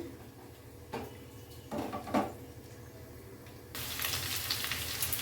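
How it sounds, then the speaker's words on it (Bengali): A pan clatters a few times, then a loud, steady sizzle of cauliflower frying takes over. "ফুলকপিটা ভাজা হয়ে গেছে"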